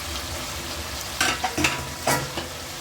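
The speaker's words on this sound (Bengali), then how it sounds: "এর মধ্যে দিয়ে দেবো আমি বাটা চিংড়ি মাছগুলোকে কষাই নেব।" Ground shrimp stirred into a pan of simmering cucumber, with a steady low sizzle broken by several sharp scraping bursts of a spatula against the pan, close and fairly loud with no talking.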